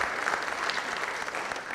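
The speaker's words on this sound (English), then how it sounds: "let's give a round of applause to all the applicants" A round of applause for scholarship applicants at a Lawrence County Chamber of Commerce awards event: dense, steady clapping from a seated crowd, fairly loud and continuous with no voices over it.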